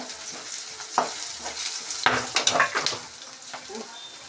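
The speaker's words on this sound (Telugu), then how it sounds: "చిల్లుతుంది, బఠానీలు వేసాం కదా అందుకని చిల్లుతుంది" Peas spattering in hot oil in a pan, irregular sharp pops and crackles with stirring scrapes, close by and fairly quiet between bursts.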